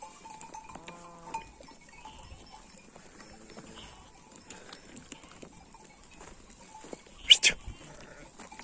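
Sheep and goats bleat sporadically in a quiet mountain pasture, with faint movement and a sharp sound near the end.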